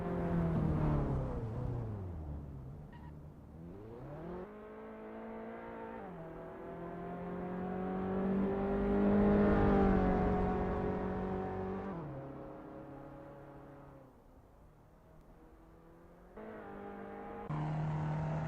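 Reliant Supervan racing engine in the sim game Assetto Corsa at Deepforest Raceway, droning loud and steady as it revs up through the gears, dips on shifts and lifts, then climbs again with no talk over it.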